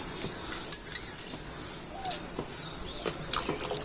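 A spoon stirs milk mixed with custard powder in a pan, faint light scraping and clinking with soft liquid sloshing at irregular intervals.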